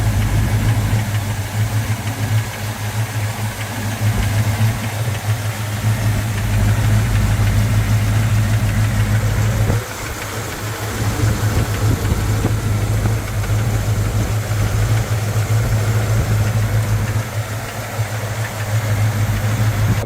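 A 1970 Plymouth GTX engine idles while warming up, a steady deep, lumpy rumble, loud and close, holding a constant low drone for the whole stretch.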